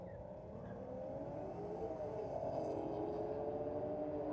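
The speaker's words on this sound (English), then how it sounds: "Rocket Lane just blowing the tyres off it" Ford FG drag car at a Sydney drag racing meet, a loud sustained engine roar with rising revs and tyre-spinning intensity, steady and close for several seconds.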